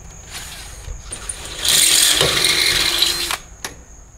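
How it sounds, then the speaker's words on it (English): A power driver with a square bit tightens a nut on a bolt on a square-tubing utility trailer, a short loud whirring ratchet burst lasting about two seconds between quieter clicks. "choosing a bit where the square will fit snug to help assist hold that bolt when it pulls down to tighten the nut"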